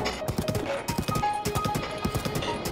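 Horse hooves clip-clop in a quick, even rhythm as a horse is ridden in a Nintendo Switch video game, close and clear throughout.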